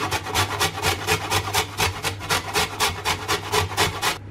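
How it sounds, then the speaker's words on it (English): Parsnips are grated against the small holes of a hand grater, a close, rhythmic run of about a dozen quick rasping strokes, each a scratchy burst, steady and alone without voices. "I like using the smaller holes on my grater and really just setting about grating all of my parsnips"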